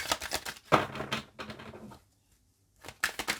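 Bursts of crisp, rapid tarot card riffling and slapping, with a short silent pause in the middle before the shuffling resumes.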